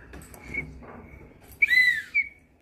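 A handheld whistle is blown in a few short, shrill bursts, with a sustained piercing blast near the end, heard indoors at a home over faint background murmur.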